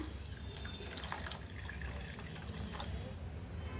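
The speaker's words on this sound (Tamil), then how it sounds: "நான் வந்து 1/2 கப் தண்ணி சேர்த்துக்கிட்டு இருக்கேங்க." Water runs steadily into a pan of jaggery to dissolve it, a continuous splashing, trickling stream with dripping detail, close and fairly loud throughout, with no talking.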